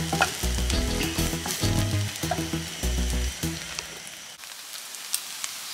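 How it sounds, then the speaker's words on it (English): Egg fried rice with spring onions stir-fried over high flame in a wok: loud continuous sizzling with repeated rhythmic scraping and tossing strokes, then the stirring stops and only the sizzle remains. "add some spring onions, mix it well, and cook in high flame for another 2 minutes"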